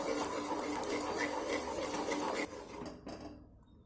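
Urad dal flour being stirred steadily into boiling water in a heavy pot on medium flame, a continuous close scraping and rubbing that runs evenly, then thins out and fades near the end.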